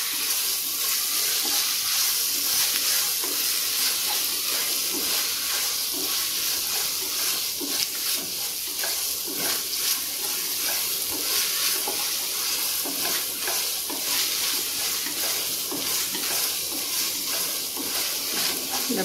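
Spices frying in a pan for egg biryani, a steady, even hiss of sizzling oil with faint stirring scrapes running unbroken for nearly twenty seconds.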